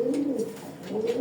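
Domestic pigeons kept in a loft cooing close by, two soft rolling coo phrases rising and falling within a second, with a slight pause between them and no talk.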